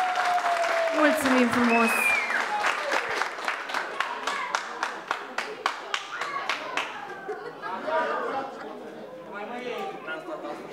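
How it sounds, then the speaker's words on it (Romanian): Guests clap for baby Izabela at a Romanian christening party, a crowd of hands rising loud over a brief voice, settling into scattered distinct claps before chatter and voices take over. "Aplauze pentru Izabela, vă rugăm!"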